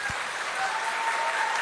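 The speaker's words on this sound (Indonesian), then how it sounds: "Coba dengan tepuk tangan." An audience at a comedic stage show in Serpong gives a short burst of applause, a dense wash of clapping hands that holds steady for under two seconds, with a faint murmur of crowd underneath.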